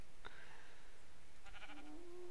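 A sheep in a multiplayer sandbox game bleats in a short synthetic cry, moderately loud against faint background game noise, with a brief rising tone near the end.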